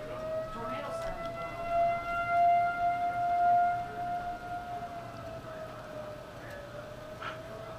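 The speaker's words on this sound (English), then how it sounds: "Sirens are going off. Tornado sirens." Outdoor tornado warning sirens wail from a distance, a steady rising and falling tone sustained throughout with faint background ambience.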